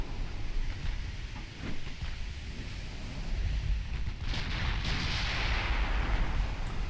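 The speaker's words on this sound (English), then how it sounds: "Couple of hits with the main guns." Warship main guns firing in the naval battle game Ultimate Admiral Dreadnoughts, with a few deep booming blasts rolling over a continuous low rumble of battle noise, no talk.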